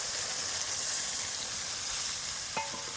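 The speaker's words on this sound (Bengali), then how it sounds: "বেগুনটা দিয়ে দিয়েছি, এবার সামান্য পরিমাণে একটুখানি জল দিয়ে দেব।" Eggplant and a little water go into a spice paste that sizzles loudly in a pan, a steady close frying hiss with stirring and a brief clink near the end.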